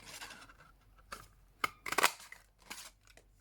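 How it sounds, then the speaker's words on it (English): A 2¼ inch circle punch cuts out black paper, giving a few short, crisp crunching snaps, close but quiet against a near-silent background. "I've got a 2¼ inch punch, circle punch, and I'm going to cut out"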